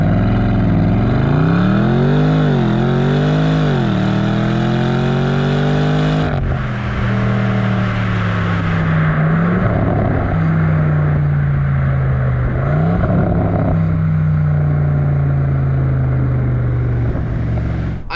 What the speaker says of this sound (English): I love the crackles and pops this exhaust makes